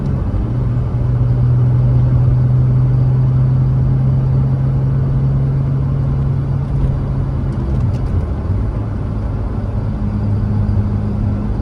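A Porsche 911 Turbo with a manual gearbox on the move, its engine a steady, loud low drone and rumble from inside the cabin that shifts pitch slightly partway through, with no talking.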